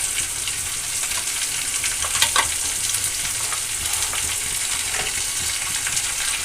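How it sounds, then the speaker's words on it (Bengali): Onion frying in oil left from hilsa fish, a strong, steady sizzle with occasional stirring scrapes close by. "আর মাছের তেলে আমি পেঁয়াজটা দিয়ে দিলাম"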